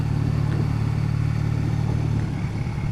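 A 2014 Triumph Bonneville motorcycle runs steadily on the road with a constant low engine drone and wind noise throughout, close and fairly loud, with no talking.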